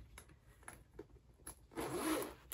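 A zipper on a large compartment of a Coach Jes crossbody bag is pulled in one quick, close rasping run near the end, after a few faint handling taps and rustles.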